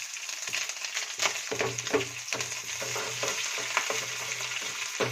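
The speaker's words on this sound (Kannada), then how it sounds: "ಈಗ ನೋಡಿ ಫಸ್ಟ್ ಮೆಣಸಿನ್ಕಾಯಿ ಹಾಕ್ಕೊಂಡು ಚೆನ್ನಾಗಿ ಹುರ್ಕೊಳ್ಳೋಣ" Green chillies sizzling in hot oil in a pan for a Karnataka-style churumuri, a steady crackling fry with intermittent stirring scrapes, close and continuous.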